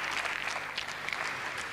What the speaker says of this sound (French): Applaudi par le public.